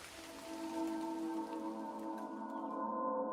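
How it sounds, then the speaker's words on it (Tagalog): Heavy rain pours in a rural village, a dense hissing wash that slowly swells louder, with a low sustained tonal drone beneath it. "Lumalakas na ang ulan."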